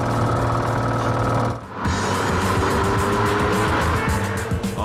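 Maserati sports car engine roars loudly and steadily while driving after a pit stop, briefly dipping in revs as if changing gear before pulling hard again, with no speech over it.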